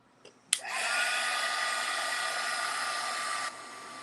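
A hair dryer switched on after a click to dry a craft project, blowing as a steady, fairly loud whoosh for about three seconds before it shuts off.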